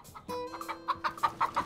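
A chicken clucks indoors, a series of short, sharp, evenly spaced clucks that grow more insistent. The bird is close and clear, with no talk over it.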